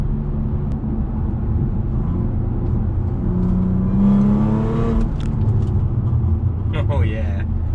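An Audi A4/S4 with upgraded brakes accelerates, a steady low engine rumble from inside the cabin that swells briefly in the middle, with someone talking over it.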